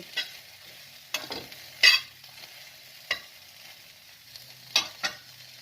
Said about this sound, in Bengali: দু মিনিট পর আবার নাড়াচাড়া করে দিচ্ছি